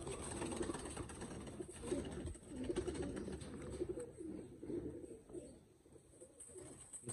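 Teddy pigeons cooing in a small group, soft repeated throaty coos rising and falling at close range, faint and continuous for about seven seconds with no talk.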